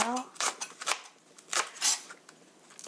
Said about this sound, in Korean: 반은 송송송 썰어주세요